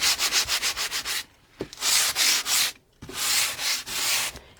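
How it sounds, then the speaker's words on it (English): Light sanding of wood with 80 grit sandpaper on a rustic porch sign, rapid back-and-forth rasping strokes close up, then brief pauses and longer sweeping passes. "It's a light sanding with a 80 grit sandpaper."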